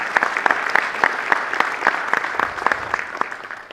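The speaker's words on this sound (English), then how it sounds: "please give her a huge round of applause and a thank you" Sustained applause fills a hall at a high school Hall of Fame induction ceremony, with dense, even clapping from a sizeable audience and no voices over it.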